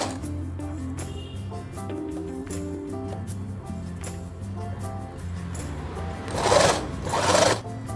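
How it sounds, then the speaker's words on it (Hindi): A sewing machine stitches lehenga fabric in a steady, close mechanical whir that runs throughout, with a couple of brief louder rustles of cloth being shifted near the end. "तो यहाँ पर हमें इतना छोड़कर सिलाई लगाना है।"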